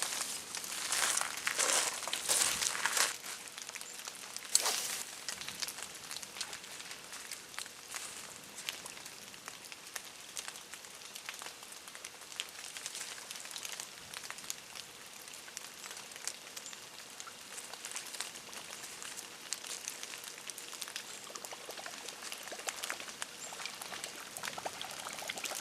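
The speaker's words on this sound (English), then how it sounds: "we got the big drops of rain starting" Big raindrops patter steadily on leaves and the ground in the woods during a musky fishing trip, with dense close spattering that grows heavier at moments and no talking.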